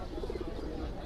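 Pigeons at a pigeon market in Ashulia, a soft rolling coo heard faintly over crowd murmur and low background noise.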